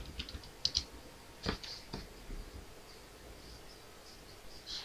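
A few scattered keystrokes on a computer keyboard during a command-line hacking exercise, sparse soft clicks with quiet gaps, close and faint over low room noise.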